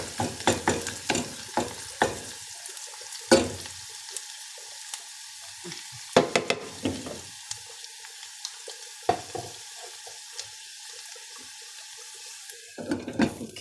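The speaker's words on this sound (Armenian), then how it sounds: "մեր սոխառածը արդեն լինում է, մի քիչ տապակվի ու լցնենք" Onions sizzle steadily in a pan while a utensil stirs and scrapes with sharp irregular clinks, close by and with no voices.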